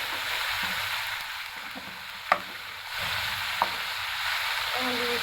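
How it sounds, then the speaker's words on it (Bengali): Potato, onion and cauliflower fry in a pan with a steady sizzle under occasional stirring scrapes, plus two sharp clinks from a utensil against the pan. "আলু, পেঁয়াজ আর ফুলকপিটা আমি ভালো মতো ভেজে নেব।"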